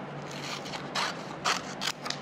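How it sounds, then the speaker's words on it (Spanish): Scissors cutting away excess covering material wrapped around a tube, with a few quiet, close snips and soft scraping strokes in a short sequence. "Lo que sobra,"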